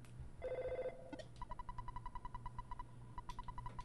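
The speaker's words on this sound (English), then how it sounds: "My phone's ringing." EarthBound video game telephone ringing: a short beep tone followed by a rapid, evenly pulsed electronic ring repeating for several seconds, clear and alone.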